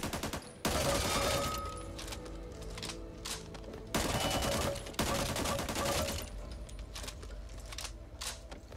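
UMP-45 submachine gun firing in the shooter game Back 4 Blood, several rapid automatic bursts of sharp cracks separated by short pauses, loud and close with no talking.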